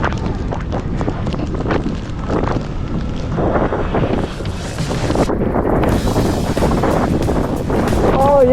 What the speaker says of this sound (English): it just started raining more again, and it's really windy